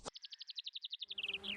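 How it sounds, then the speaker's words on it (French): A cartoon bee buzzes in a quick, rhythmic series of evenly spaced high chirpy pulses that speed up slightly near the end over faint background music, with no voices. "C'est juste une abeille."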